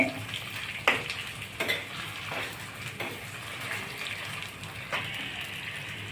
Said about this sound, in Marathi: नंतर कैरी घालणे, परतून घेणे।